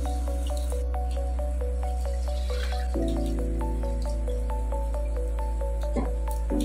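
Rainwater drips steadily into a collecting container, each drop a clear, close plink in an even rhythm over a constant low hum.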